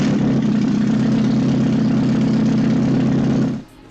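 A Ford Maverick's 2.3 liter engine running at a steady, loud idle with a low, even drone, then cutting off abruptly near the end.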